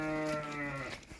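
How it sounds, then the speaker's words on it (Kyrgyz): A ewe with lambs gives a single clear, close bleat that wavers and tails off within about a second. "Ушундай козулуу койлор сатылат."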